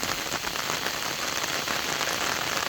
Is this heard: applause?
no